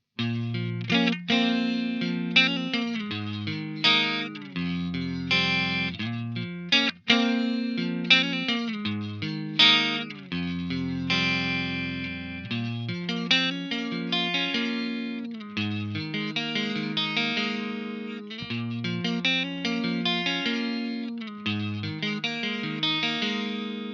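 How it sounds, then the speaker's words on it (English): An electric guitar plays chords and melodic lines through the clean channel of an EVH 5150III 50W amp, a bright tone, steady and prominent, with no voices. "Let's start with what I found to be a surprisingly good clean channel."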